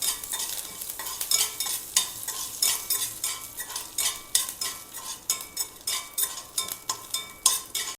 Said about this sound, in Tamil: வரமிளகா கருவேப்பிலை கொஞ்சம் வேர்க்கடலை போட்டுக்கலாம் போட்டு இது மிக்ஸ் பண்ணி விட்டுக்கலாம்